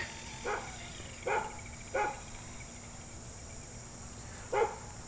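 Neighbor's dog barking outdoors at a distance, four short separate barks spaced irregularly over a steady insect or cricket drone, with no talking.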